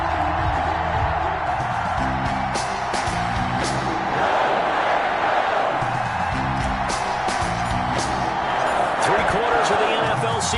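Stadium crowd in an NFL football video game, Philadelphia Eagles against Green Bay Packers in Green Bay, roaring as a steady dense wash with rhythmic chanting bursts throughout.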